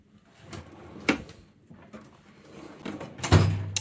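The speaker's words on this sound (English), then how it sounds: "On the Bluepoint, if you look at that, it's like a soft close sort of drawer" A soft-close drawer on a Bluepoint tool service cart slides and settles with a few soft knocks and a firmer thud near the end, close by with no talking.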